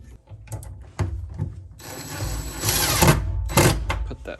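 Power driver sinking a screw to mount a wooden drawer slide held by a clamp: a few sharp knocks, then a loud, steady whirring for about two seconds, ending with clicks and bumps.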